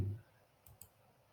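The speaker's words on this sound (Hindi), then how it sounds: "सो अभी फिर से हम क्लिक करते हैं" A computer mouse gives two quick, faint clicks in close succession during copy-and-paste work on a computer, with a quiet background.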